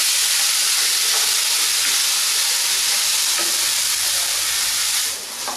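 Food sizzles steadily in a pan, a dense even frying hiss lasting throughout with faint stirring scrapes, loud and close, with no voices.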